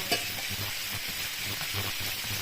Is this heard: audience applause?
no